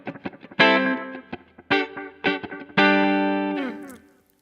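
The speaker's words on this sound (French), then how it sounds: "Ensuite, un delay léger." Electric guitar on a clean amp with a light delay from a Line 6 POD HD 500X, with picked single notes and ringing chords whose faint repeats trail behind each attack, played alone.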